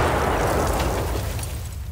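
A grenade blast in the shooter game Escape from Tarkov, a loud, sustained boom with rumbling low end that fades slowly over two seconds, with no voices.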